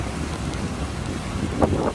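Ocean waves rolling in and breaking against rocks along the Sokcho coast as a typhoon passes, a steady churning wash blended with gusty wind and rain noise, one surge swelling near the end.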